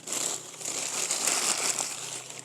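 Paper being wadded up for a campfire in the woods, a continuous close crinkling and crackling as the sheets are crushed into loose balls, without speech.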